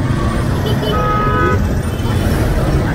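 Dense road traffic in Bodija, Ibadan, Nigeria, heard from a motorcycle: a constant loud roar of engines and road noise, with a brief car horn toot in the middle.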